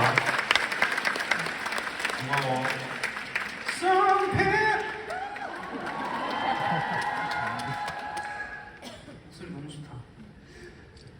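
A concert crowd at a national tour show in Goyang applauds and cheers loudly, sustained clapping with shouts, while a voice speaks over it and the noise fades toward the end.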